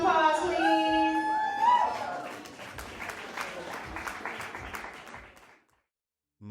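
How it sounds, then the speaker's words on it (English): A small audience at a poetry and music event applauds after an act is introduced, starting over a voice that talks briefly and then fading out to silence. "Give a round of applause, please."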